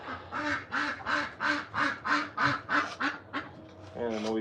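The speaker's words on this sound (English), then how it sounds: "And a noisy duck." A duck quacks in a fast rhythmic run of about ten loud, close quacks, ending with a person beginning to speak.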